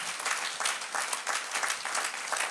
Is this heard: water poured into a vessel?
no